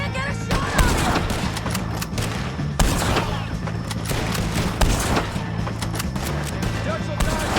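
Rapid gunfire in a Red Dead Redemption 2 shootout against the O'Driscoll gang, dense overlapping shots and bursts continuing throughout, with game music and shouted voices underneath.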